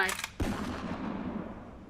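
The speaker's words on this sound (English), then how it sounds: "There was a gunshot sound." A single sharp gunshot cracks out in the game Aviary Attorney, loud and abrupt, then a reverberant tail fades away.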